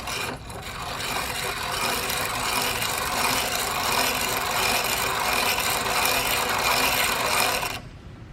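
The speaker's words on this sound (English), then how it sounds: "We're gonna be using this piston ring grinder." A hand-cranked piston ring grinder files the gap of a 2JZ piston ring, making a close, continuous rasping grind with a fine ratcheting texture that runs steadily for several seconds before stopping.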